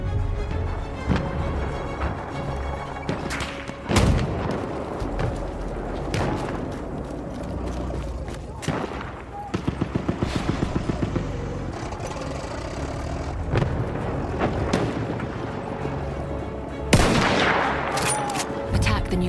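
An enemy artillery barrage in a video game: repeated booming blasts and gunfire bursts, including a quick rhythmic volley, over a steady engine-like rumble, with occasional voices in the mix.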